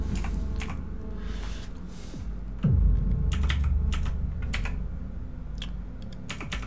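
Loud clacking from a computer keyboard, a steady stream of rapid keystrokes close to the mic, with game sounds underneath.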